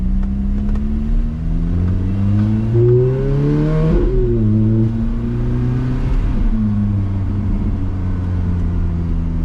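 A 2006 Ferrari F430 Spider engine revs hard while driving, climbing through the gears in repeated rising sweeps with brief dips at each shift, loud and close throughout with no talk.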